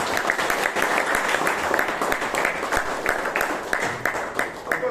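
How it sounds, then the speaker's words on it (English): An audience at a Toastmasters meeting in Bangalore claps together in a dense, moderately loud burst of applause that holds steady for several seconds. "So please give Vishal a huge round of applause."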